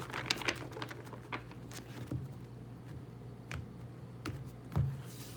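Tarot cards being shuffled by hand, giving soft irregular riffling taps and papery flicks at close range, fairly quiet against low background hum with no talking.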